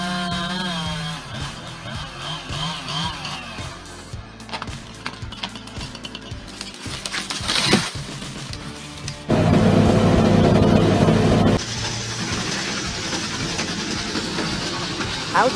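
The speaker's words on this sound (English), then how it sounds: "Bandit 21 XP is like a black monster, devouring giant trees." A Bandit 21 XP wood chipper devours giant trees with a loud, continuous mechanical roar and grinding, surging louder for a couple of seconds midway before settling back to a steady heavy drone.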